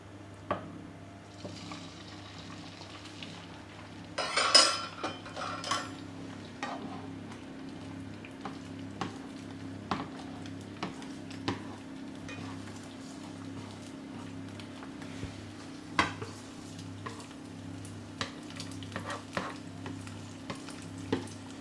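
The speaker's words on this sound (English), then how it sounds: "Now we're ready to fry our eggs for our Nasi Goreng." Eggs frying in a pan for chicken and shrimp nasi goreng, with a soft steady sizzle and occasional clinks and scrapes of a utensil, close and fairly quiet, without talking.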